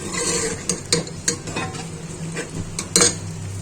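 Onions and cumin seeds sautéing in a pan until lightly browned, a soft continuous sizzle broken by quick clinking stirs of a spoon against metal, close by with no talking.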